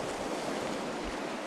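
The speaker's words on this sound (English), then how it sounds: "You can see the waves just breaking here." Sea waves break on a reefy shoreline along the Northumberland coast, a continuous broad wash of surf with a soft low rumble, steady and close, no voices.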